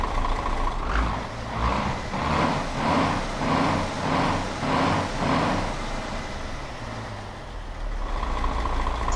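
A Scania truck in Euro Truck Simulator 2 running a modded engine and exhaust sound, a low idle that swells and fades in about seven even pulses as the revs rise and fall, then settles to a steady rumble.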